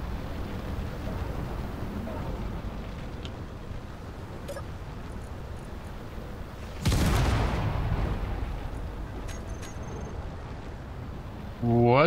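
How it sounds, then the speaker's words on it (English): A sudden explosion booms in the Space Engineers video game, a broad loud burst that swells over a steady background rumble and fades out over a couple of seconds, with another sharp burst right at the end. "Something exploded."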